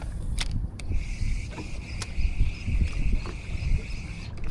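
A fishing boat's engine runs beneath the deck, giving a steady low rumble under a thin, constant whine, with a few sharp clicks and knocks scattered on top.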